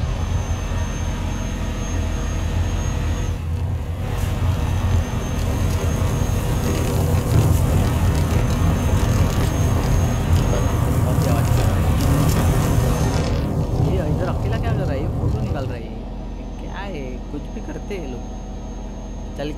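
In Euro Truck Simulator 2, a truck rolls along a dirt road with a constant, loud engine drone and road rumble that eases off near the end, while a person talks over it.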